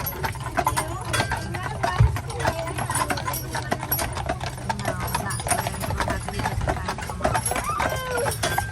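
Steady, rhythmic clip-clop of a horse-drawn carriage's hooves on pavement, continuing throughout while a person talks over it.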